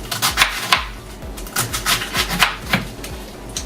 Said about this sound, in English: let me just finish making my slices here